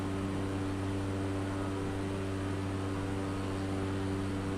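A small bush plane's propeller engine drones steadily in flight over the Canadian Rockies between McBride and Jasper, a loud, even hum with a strong low tone and no talk.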